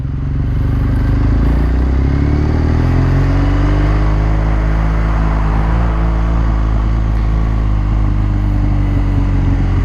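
A 2017 BMW R1200 GS K51 adventure motorcycle on a test ride, its boxer engine droning loudly and continuously with shifting pitch as it accelerates, mixed with heavy wind rush from the moving bike.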